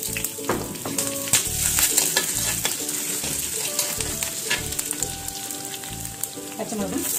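Curry leaves frying in hot oil, a loud, busy crackle and spatter with sharp pops and scraping stirs, heard up close and steady throughout.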